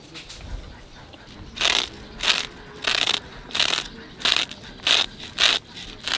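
A silver carp is scaled by hand in a home kitchen, with about eight rhythmic, crunchy scraping strokes close by, each a short rasping burst separated by brief pauses, over faint background noise.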